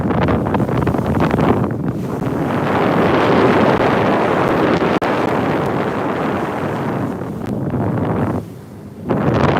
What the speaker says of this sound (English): It's much windier today.